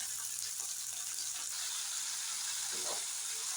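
Sundakkai turkey berries sauté in a pan over a medium flame for chutney, giving a steady, even sizzle of frying throughout, moderately close, with faint stirring scrapes.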